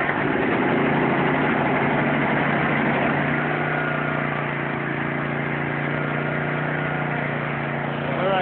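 Small gasoline engine on a powered roof tear-off machine runs steadily and loud throughout, a constant close idle drone with no talk.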